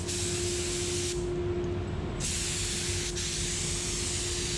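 A paint spray gun sprays thick flaked paint with a steady, loud hiss, cutting out briefly partway through before the spray resumes alone.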